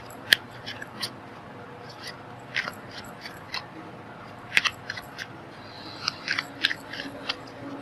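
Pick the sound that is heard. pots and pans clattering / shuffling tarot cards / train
shuffling tarot cards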